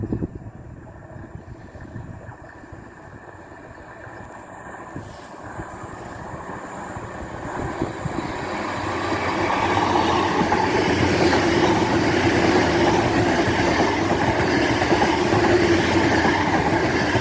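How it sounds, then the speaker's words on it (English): LNER Class 800 train passing through North Queensferry station, a steady rumble and wheel noise building from moderate to loud and holding close by, with no talk. "Now passing through is an LNER Class 800."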